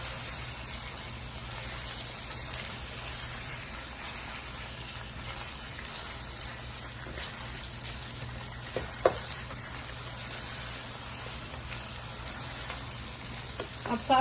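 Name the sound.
garlic and ginger frying in a pan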